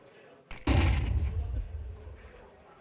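A Counter-Strike round where a sharp shot cracks, followed by a heavy, booming burst of gunfire punching through wood, its low rumble trailing off over a couple of seconds.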